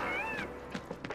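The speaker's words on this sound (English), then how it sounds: "I can't tell if the cat sound is coming from the recording or not." A short cat-like meow sounds within a song in the video game Final Fantasy 7 Remake, a rising and falling tone followed by a few soft thumps.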